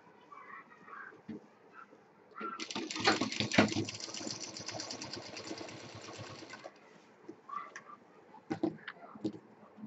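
Sewing machine stitching the runner and lining of a homemade cargo-style college bag, a steady close mechanical run lasting about four seconds in the middle, with quieter handling clicks and rustles before and after.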